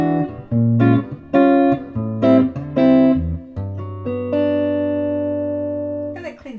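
A PRS Santana SE electric guitar, tone knob rolled back to 5, plays a few plucked notes and short chords, then lets a final chord ring out and slowly fade, with a slightly mellowed, rounded tone.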